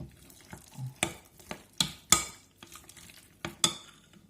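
Chicken liver pancake batter with onion is stirred in a bowl, giving a run of separate clinks and scrapes of utensil against the bowl at an irregular pace, close by and fairly quiet, with no talking.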